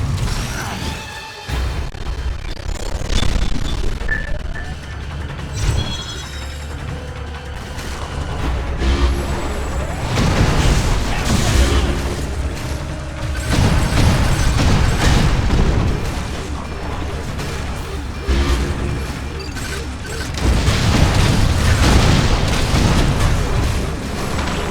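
Missile fire and explosions in the Metroid Other M video game come as loud, dense booming blasts and mechanical clanks over a continuous rumbling, busy battle soundscape.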